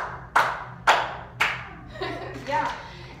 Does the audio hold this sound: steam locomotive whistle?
no